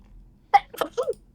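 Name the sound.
sneeze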